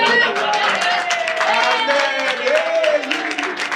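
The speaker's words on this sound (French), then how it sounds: "applaudissons pour ma femme" Church congregation clapping in a brisk, uneven patter that continues under a voice and other vocal sounds over the applause.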